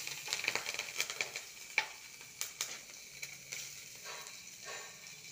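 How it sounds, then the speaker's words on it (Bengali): White mustard seeds, ajwain and green chili sizzling in hot oil as a tempering, with sharp close pops and crackles over a soft frying hiss that gradually settles. "ফোড়ন আমার এখানে দেওয়া হয়ে গেল।"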